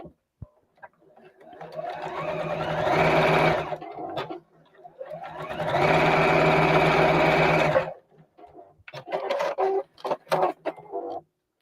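A sewing machine runs in two long continuous bursts stitching down the long edge of folded, pressed bias binding for a pot holder, followed by short stop-start runs, up close with no talk.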